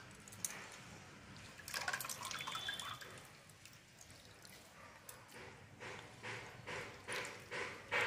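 Wet grated potatoes being squeezed and strained by hand into a basket, water dripping and trickling in uneven bursts, fairly close and quiet, growing louder toward the end.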